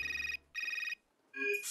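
A phone ringtone in a dubbed animated cartoon, a bright electronic tone sounding in three evenly spaced bursts with short gaps between, clear and close with no talk over it.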